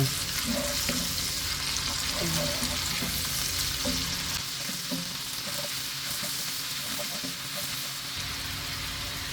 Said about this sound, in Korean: 여기 마늘 기름을 만들어줍니다